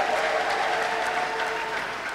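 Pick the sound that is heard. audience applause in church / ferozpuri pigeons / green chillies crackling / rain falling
audience applause in church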